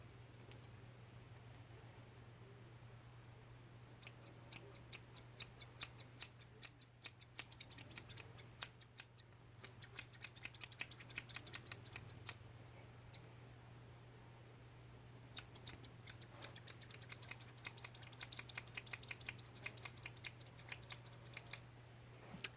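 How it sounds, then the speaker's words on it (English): Scissors snipping hair during a haircut, many crisp, close, quiet clicks in irregular bursts over a low steady hum, with no talk. "the first thing, I guess, is just to cut off both of the sides evenly"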